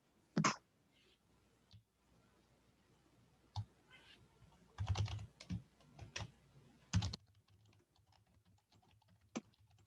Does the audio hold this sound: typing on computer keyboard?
yes